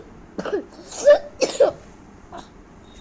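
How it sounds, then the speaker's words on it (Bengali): A young child coughs several times in short, sharp bursts close to the microphone, with brief quiet pauses between the coughs. "শুধু কাশি হচ্ছে সোনাটা"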